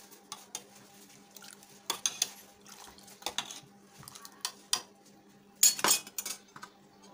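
Spoon scraping and clinking against a pot as ghee is stirred into milk, irregular quiet strokes with a few louder metallic knocks, close by and without talk.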